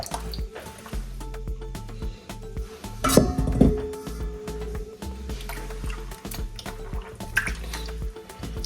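Homemade butter made from heavy whipping cream is washed in water, producing close drips, splashes and clinks of a utensil against a bowl, with a louder burst of sloshing midway.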